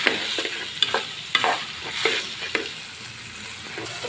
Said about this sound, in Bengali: এখন আমি সিমের বিচিটা আমি দিয়ে দিব